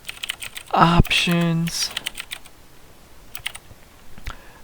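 Light clicks of typing on a computer keyboard while a web menu is being built, a few faint keystrokes following a brief spoken word.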